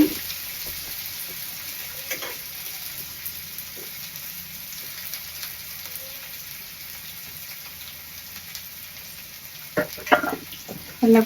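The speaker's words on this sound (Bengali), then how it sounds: "পেঁয়াজ ভালো করে ভাজবো। পেঁয়াজ ভাজবো," Onions frying in a pan give a soft, steady sizzle, faint and close, with a few light clinks and a louder clatter near the end.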